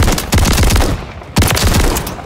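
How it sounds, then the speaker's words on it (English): Automatic shotgun fire in a multiplayer shooter video game, two loud rapid bursts of booming blasts about a second apart, close and dominant with no talking. "There's no way he didn't hear my shotgun."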